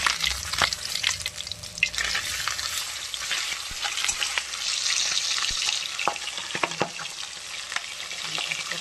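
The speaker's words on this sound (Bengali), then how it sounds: "আর এদিকে মাছ ভাজা হচ্ছে, মাছটা দিয়ে দেবো।" Fish fries in a pan with a loud, continuous spitting sizzle, broken by sharp scraping and clacking stirs nearby.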